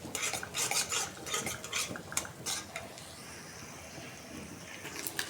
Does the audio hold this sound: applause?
no